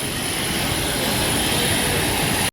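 A loud, steady broadband roar of a passenger jet's engine running close by while boarding an Akasa Air flight, constant and unbroken throughout, with a thin high whine on top.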